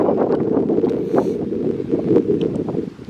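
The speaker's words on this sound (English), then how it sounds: "The wind's getting up though" Wind gusts across an estuary near Moyne Abbey in Ireland, a steady low buffeting roar against the microphone that rises and falls slightly, with no voices.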